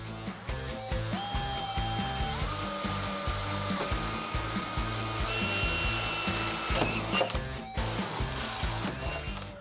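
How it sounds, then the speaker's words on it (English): A power drill bores a pilot hole for a Quik-Latch hood pin on a Ford Mustang, whining up through rising pitch steps over about nine seconds, close and continuous, with a brief pause near the end. "now we're gonna drill a hole through here so we can actually go down through and get down a little bit lower"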